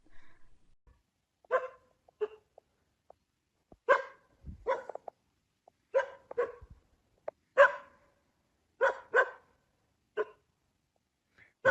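A dog barks repeatedly in a forest campsite in short, sharp bursts, spaced irregularly, fairly close with quiet gaps between.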